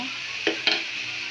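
Cabbage frying in a pan with a steady sizzle, broken by two quick scraping stirs close by; no talking.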